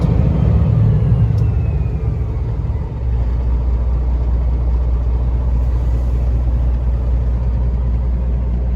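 Steady low rumble of a running diesel engine in a 2014 Peterbilt 389 glider kit truck with a small flat-top sleeper and wet kit, droning evenly and close with a brief dip partway through, no talk.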